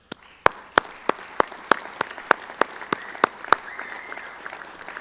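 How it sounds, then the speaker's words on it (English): Slow, spaced claps at a high school Hall of Fame induction ceremony give a round of applause for the team. About a dozen sharp, evenly timed claps ring out distinctly in a quiet, reverberant room, then fade near the end. "I'd like to go ahead and give these guys a round of applause"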